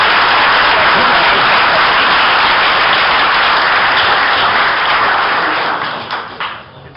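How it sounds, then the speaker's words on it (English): Audience at a pool match between Johnny Archer and Earl Strickland gives a round of applause, a loud steady roar of clapping that fades out over the last second. "give Johnny Archer a nice round of applause and wish you good luck"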